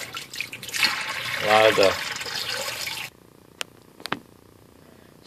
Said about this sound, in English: Over the sink and just pour the water out.